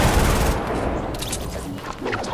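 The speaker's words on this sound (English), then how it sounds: "I will minigun you right in the mouth." Rapid, sustained automatic gunfire from a minigun in the Fortnite video game, a dense unbroken roar of shots that stays loud and continuous throughout, with no voices over it.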